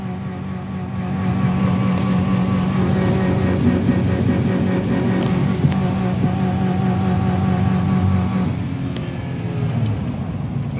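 A drift car with its muffler refitted revs hard on a road, its engine droning steadily and loudly throughout, easing off near the end with no talk over it.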